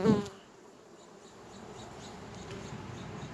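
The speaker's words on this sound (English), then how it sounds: "And now I got a bunch of bees dying." A brief low buzz right at the start, then a faint, steady hum of poisoned, dying honey bees continues quietly in the background with no voices.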